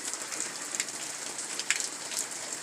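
Rain falling steadily on a surface, a soft continuous hiss with scattered brighter drop ticks, fairly close and even throughout, with no talking.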